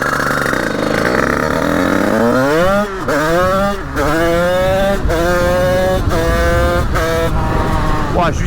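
A Honda HM 86 motorcycle engine with aluminium top end accelerates hard through the gears, loud and close, its pitch climbing and dropping at each of several quick shifts.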